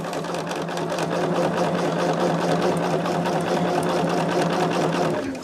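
Sewing machine stitching steadily at a constant fast rhythm, close and loud, running alone without pause for several seconds before stopping at the end.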